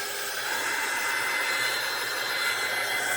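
A hair dryer blows over a painted scrap-wood craft piece with a steady, loud, close whooshing hiss that runs without a break and has no talk over it.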